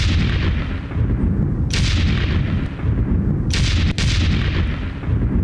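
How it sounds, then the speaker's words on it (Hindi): Loud, dense rumble of blasts and gunfire after a rocket attack at Nur Shams camp in Tulkarm, with sharp cracking bursts near 1.7, 3.6 and 3.9 seconds over a continuous low roar, no voices. "नूर शम्स कैंप में रॉकेट हमले के बाद धमाका।"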